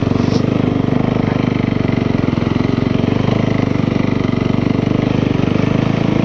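A Nemesis snow bike engine runs steadily and loud up close, a continuous buzzing drone that holds its pitch without breaks for the whole stretch.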